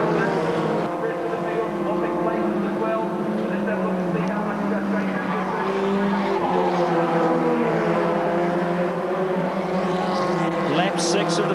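Formula Ford race cars at Pukekohe scream across the line, their high engine whine steady and loud, with a commentator talking throughout over the racing noise.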